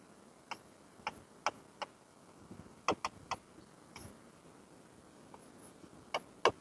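A pen writes the left-hand side of a trigonometry equation, giving a series of faint, sharp ticks and scratches in an irregular rhythm against a quiet background.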